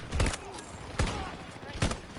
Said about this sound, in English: I just shotgunned the dozer right in the face